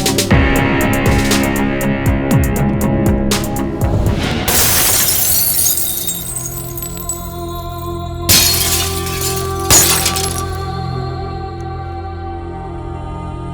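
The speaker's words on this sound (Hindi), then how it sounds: "कांच टूटने की आवाज सुन के" Glass shatters with a loud crash and scattering, tinkling debris over a tonal music bed, followed by two more sharp breaking bursts a few seconds later.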